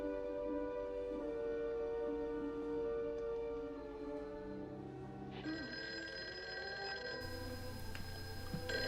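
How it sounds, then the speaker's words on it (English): A telephone rings in a film scene, a sustained electronic ring holding for several seconds before shifting to a higher-pitched tone, clear and alone with no talking. "As the phone rings, Madeline is startled awake."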